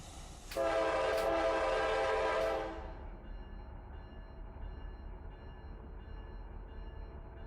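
A freight train in the Run 8 train simulator game sounds a loud, steady horn blast for about two seconds, then it cuts off, leaving the low rumble of the locomotive pulling forward.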